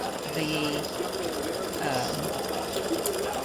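An embroidery machine sews satin stitching on a freestanding-lace St. Patrick's Day hat earring, giving a close, steady, continuous mechanical hum and rattle.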